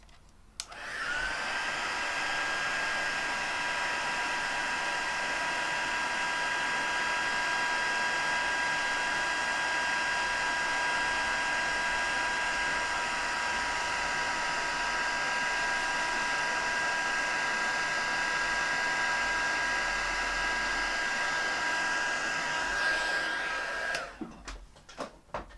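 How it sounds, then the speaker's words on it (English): A heat gun blows steadily while heat embossing white powder on vellum for card making, a loud, even whirring hum with a faint whine that runs unbroken for over twenty seconds, then stops. "So cover your ears. I'm gonna heat emboss again."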